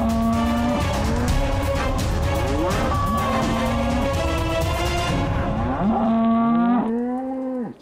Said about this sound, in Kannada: ಇದಂತೂ ಹಸುಗಳು ಕೂಗ್ತಿರೋ ಹಾಗಿದೆ.